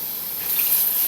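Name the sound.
water being added to a cooking pot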